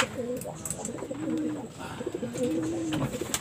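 A racing pigeon back in its loft after a 69.9 km race coos in soft, rolling phrases, close by and steady, over a faint background murmur.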